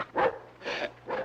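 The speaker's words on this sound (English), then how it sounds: "Call off your dog, mister." A dog gives three short, sharp barks in quick succession at close range, evenly spaced, with no talking over them, in a Western-era outdoor standoff.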